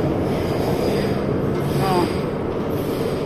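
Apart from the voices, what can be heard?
metro train departing from the station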